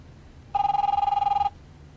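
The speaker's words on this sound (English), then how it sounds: "Your phone's ringing." A phone rings in The Wolf Among Us video game: one steady electronic ring of about a second with a rapid warble, clear and alone over a low background hum.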